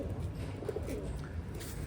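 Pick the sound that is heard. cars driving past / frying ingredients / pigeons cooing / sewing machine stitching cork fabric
pigeons cooing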